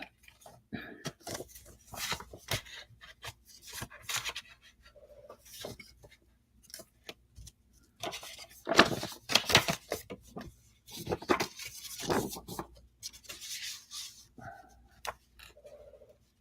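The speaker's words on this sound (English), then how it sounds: "Oh, that's a woodpecker." Irregular clusters of sharp woody taps and knocks from a pileated woodpecker pecking, some close and loud, others softer, with pauses between bursts.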